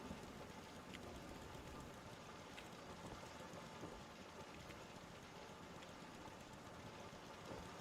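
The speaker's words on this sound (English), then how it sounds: "I can hear the rain on the roof." Rain drums steadily on a roof inside Fallout 4, a dense, even patter that fills the whole stretch with no speech over it; any distant thunder stays buried in the hiss.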